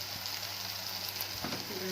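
Food being stirred in a cooking pan after a spoonful of salt goes in, a steady faint sizzle with soft scraping and a few brief clinks, no talk.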